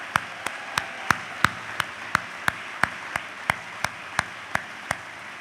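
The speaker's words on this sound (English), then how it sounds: "let's give them a round of applause as well." Rhythmic, evenly spaced clapping at a divisional business meeting, sharp hand claps about three per second ringing out over a softer spread of audience applause in a reverberant room.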